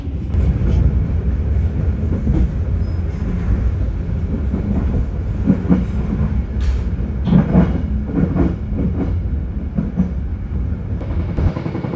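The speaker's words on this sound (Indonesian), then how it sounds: "didapat kereta Matarmaja saat ini sedang berlari di kisaran 88" The Matarmaja passenger train runs on rails at about 88 km/h, giving a continuous loud low rumble with rhythmic clicks and clatter from the wheels, heard close from on board with no talk.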